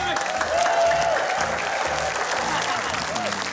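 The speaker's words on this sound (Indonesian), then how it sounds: "tepuk tangan dong" Steady studio audience applause on an Indonesian TV comedy show, a continuous wash of clapping with crowd noise and some cheering, a voice occasionally rising above it.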